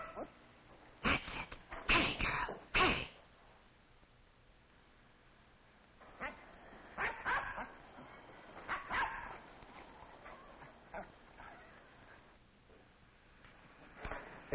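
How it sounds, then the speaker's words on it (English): A dog barks at a cat up a tree outdoors, bursts of loud close barks and yips in two clusters separated by quieter pauses, with faint whimpering between. "Oh, Tiger has a cat up a tree."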